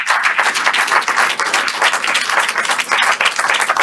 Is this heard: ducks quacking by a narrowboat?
no